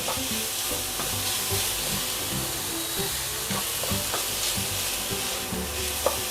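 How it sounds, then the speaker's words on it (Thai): Pork being stir-fried in a pan, a continuous close sizzle and hiss with repeated stirring scrapes throughout and a sharp clink near the end. "ก็ลวนหมูให้สุกเลยนะครับลวนไปเรื่อยๆเลย"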